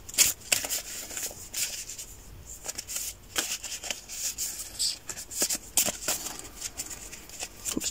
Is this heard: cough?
no